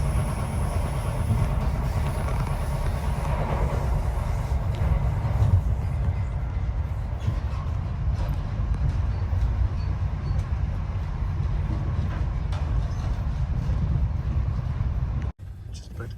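A Great Western HST high speed train runs through Cornwall near the Tamar crossing, heard from on board as a steady low rumble with faint rail clatter, under occasional passenger voices and announcements, ending in a sharp drop.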